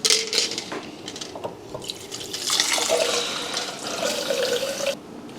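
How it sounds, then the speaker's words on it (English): Filtered water pours steadily from a filter jug, a continuous splashing trickle that swells and eases for several seconds before cutting off, with no voices. "So I'm gonna just pour it all the way"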